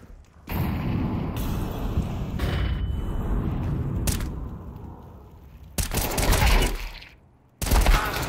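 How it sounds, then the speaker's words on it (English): Counter-Strike 2 gameplay: loud bursts of gunfire and a booming blast, like a flashbang grenade going off, with sharp onsets and brief gaps between dense rattling stretches. "Deploying flashbang."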